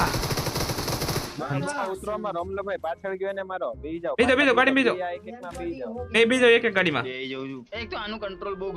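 Burst of automatic gunfire from the battle-royale video game PUBG opens loud and dense, then gives way to excited, overlapping talk from several players for the rest of the span.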